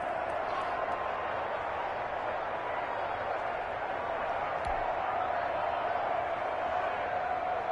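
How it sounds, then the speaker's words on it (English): A stadium crowd in a PS4 American football video game broadcast roars and cheers steadily ahead of a big third down, a continuous, fairly distant wash of voices throughout. "the crowd getting into it as we come up on a big 3rd down"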